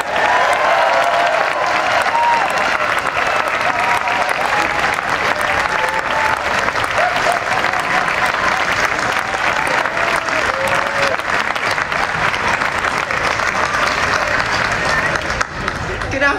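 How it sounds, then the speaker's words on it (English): Sustained, loud applause from a large audience at the opening of the Edinburgh Festival, an even wall of clapping with a few faint cheers that carries on without a break. "And the second one, if you could please give an equally loud round of applause to Nicola Bernadetti, the festival director."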